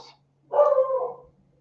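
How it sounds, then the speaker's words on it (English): A single dog gives one clear, fairly close bark that fades quickly, set against a quiet indoor room. "now she's going to bark at every shadow"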